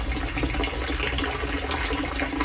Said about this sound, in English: we're just pouring buckets of water in here as well now, just to help to speed this up